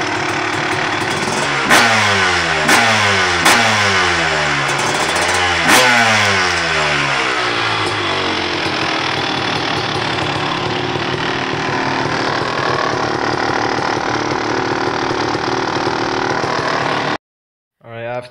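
A dirt bike engine revs hard several times while being ridden around the block, loud and close, then settles into a long steady drone before cutting off abruptly near the end.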